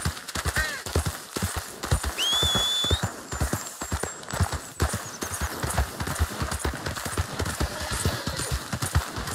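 Hooves clip-clop in a steady walking rhythm, close by, with a brief horse whinny and a high chirping sound partway through, in the video game Red Dead Redemption 2.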